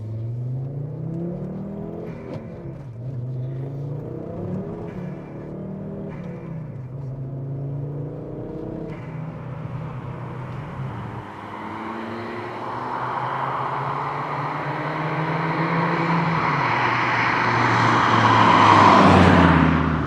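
A Volvo 850R's turbocharged engine pulls hard under acceleration, its note climbing through a gear change and then rising steadily into a louder, strained roar with a growing turbo whoosh, heard from inside the car.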